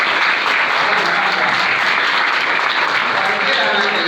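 Dense, continuous applause from a seated audience at a school result distribution ceremony, loud and even across the whole stretch, with a voice faintly mixed in.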